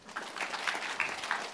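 Church congregation applauding during a sermon, a soft, steady wash of many hands clapping at a distance, fairly faint and continuous throughout.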